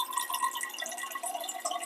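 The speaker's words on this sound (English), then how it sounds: "we're going to put about a cup and a half of water" Water pours into a pot of lentils in a home kitchen, a short, soft trickle of splashing and filling that continues without a break and has no speech over it.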